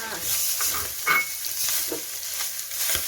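Rice tossed into a hot pan of egg for pork fried rice sizzles loudly and steadily, with scraping stir strokes and small clatters breaking through the close frying hiss.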